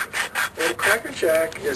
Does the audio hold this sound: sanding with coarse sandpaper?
yes